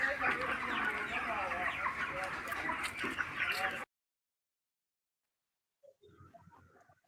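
Chickens cluck together in a crowded mass at a poultry farm, loud for a few seconds before cutting out. Faint clucking returns near the end.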